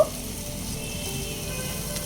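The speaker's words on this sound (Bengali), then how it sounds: "নেড়ে চেড়ে 2 মিনিট মতো কষিয়ে নেব।" Steady, close sizzling of spices with chili powder and salt frying in a hot pan, a continuous crackle with no talking.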